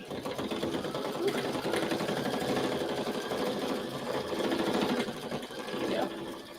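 An embroidery machine stitches a design on cardstock with a fast, even mechanical needle rattle that swells slightly in places, close and steady.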